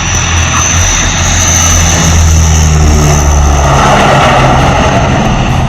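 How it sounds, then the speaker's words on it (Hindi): Heavy propeller drone of a C-130J Hercules transport aircraft landing on an expressway airstrip, a loud, steady roar with a deep engine hum and a high whine holding throughout. "वहीं C-130J हरक्यूलिस विमान उतरा भी"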